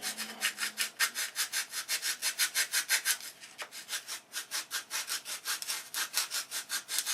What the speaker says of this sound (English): Now we can sand the inside of the tip.